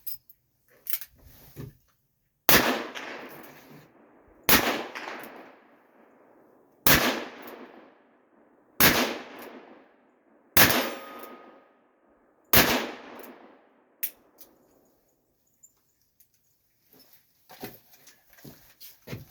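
A gun fired repeatedly, about seven loud, sharp reports spaced roughly two seconds apart, each followed by a long ringing echo that decays before the next, with small handling clicks before and after.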